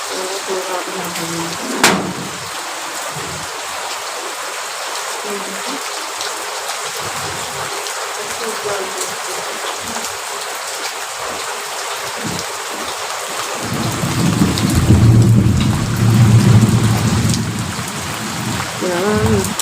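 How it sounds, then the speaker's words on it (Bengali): Heavy rain pours steadily, a dense close hiss, with a sharp crack near the start and a low rumble swelling later; a voice talks intermittently. "কি জল পড়ছে বাপরে বাপরে বাপরে আর তেমনি মেঘ ডাকছে"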